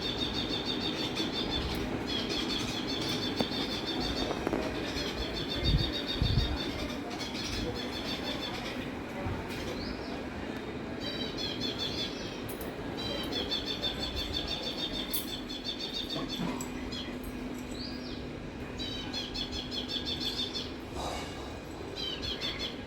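Many birds chirp and call together outdoors, with bursts of wing flapping and steady rustling background noise throughout.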